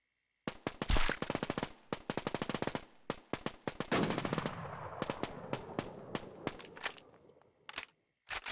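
Rapid bursts of automatic gunfire in the WarZ survival shooter game, sharp repeated cracks in fast volleys with short pauses between, loud and close, followed by lighter scattered shots.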